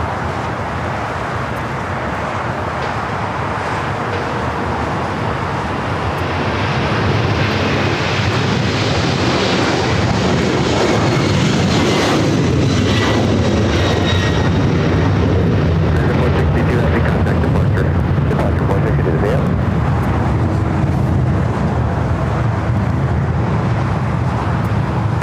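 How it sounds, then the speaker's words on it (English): An Amerijet Boeing 767-300ER converted freighter taking off at LAX: a distant roar builds and swells into a loud sustained jet rumble, then holds steady. "That is Amerijet International Flight 462 taking off to Managua, Nicaragua on the 767-300 ER converted freighter."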